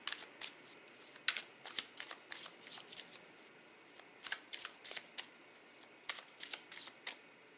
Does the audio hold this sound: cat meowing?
no